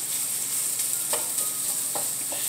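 Sausage and potato fry in a pan with a steady, close sizzle that runs throughout, broken by a few sharp scrapes and clicks as the food is stirred. No voices.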